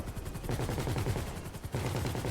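Automatic gunfire in GTA V, aimed at aircraft during a plane event, rattles in fast, even bursts. It is loud and close, with a brief gap near the end before the firing resumes.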